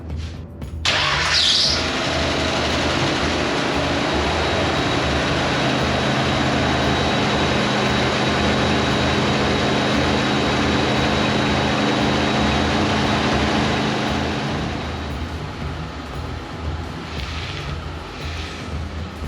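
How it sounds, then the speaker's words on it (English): An old Ford, rescued from rust in Valdez, Alaska, fires on its new starter with a brief crank, then settles into a loud, steady engine run up close, easing slightly near the end. "First start up with the Ford,"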